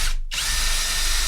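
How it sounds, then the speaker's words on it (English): A power drill whirs loudly and continuously as it bores through a diagonal piece of wood, with a brief dip in pitch at the start. "next thing is to drill a hole through the diagonal part of the wood,"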